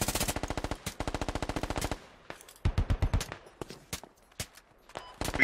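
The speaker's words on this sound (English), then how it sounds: "Give him covering fire." Automatic gunfire in the Squad video game during urban street fighting: rapid machine-gun bursts in fast rhythmic strings, then scattered single shots and short volleys, loud and close with no talk.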